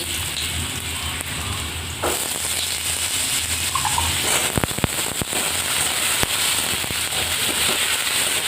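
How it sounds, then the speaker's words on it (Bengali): Small-cut potatoes dropped into hot oil for frying, a steady dense sizzle and crackle with sharper pops, louder after about two seconds as the pieces hit the pan, close and continuous with no talk. "তেলটা আমার গরম হয়ে গেছে আমি এবার ছোটো ছোটো করে কেটে রাখা আলুটা দিয়ে দেবো"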